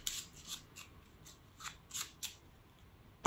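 Playing cards being shuffled for a card trick, heard as a quiet series of short papery riffles and flicks, about ten soft bursts spaced unevenly over a few seconds, with a sharper tap at the end.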